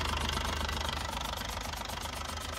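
A Yuchai 260 diesel engine rated at 191 kW runs steadily with a fairly quiet, even, knocking idle rumble that continues without pause. No one speaks.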